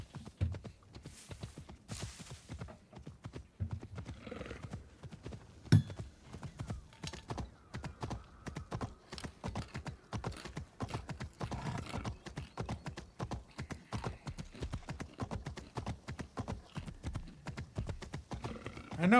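Horse hooves clip-clop steadily in the video game Assassin's Creed Shadows, a continuous run of close, even hoofbeats over about twenty seconds, with a few louder thuds and faint background game sound.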